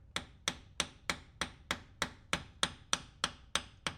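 A copper hammer strikes a 27 socket to tap an axle oil seal into place: about a dozen sharp, evenly spaced metallic taps, close and clear with nothing else heard.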